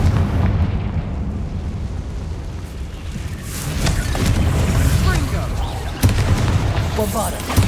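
Repeated booming fire-spell blasts in the Hogwarts Legacy video game, the Confringo curse bursting against a barricade, rumbling explosions over a dense battle soundscape with a loud impact near the end.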